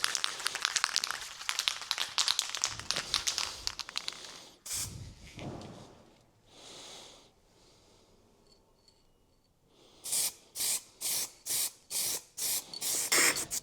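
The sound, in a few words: spray painting a Harley Davidson Sportster mudguard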